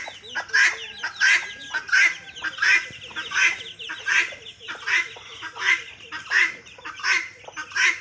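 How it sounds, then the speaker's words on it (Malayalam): Free-range country chickens call over and over in a steady rhythm, each loud squawking note arriving about every half second, close by. "ഇതാണ് ഞാൻ വളർത്തുന്ന കോഴി"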